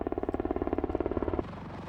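A presidential helicopter flies overhead with a rapid, steady thump of rotor blades that is loud and close, then the pulsing suddenly gives way to a duller, fading drone near the end.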